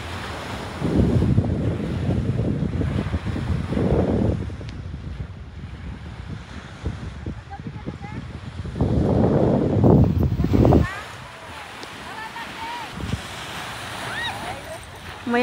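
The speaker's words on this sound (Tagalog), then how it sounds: "Mainit pero malamig daw kasi mahangin, malakas yung hangin." Strong wind buffets the microphone on Ajman Beach while waves surge and break in repeated loud roaring swells, with quieter gaps of surf hiss between them.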